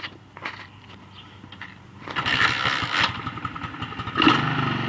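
A Chinese MX-100cc pit bike engine kicked over from cold and catching, settling into a rough, uneven, sputtering idle that grows louder, close by.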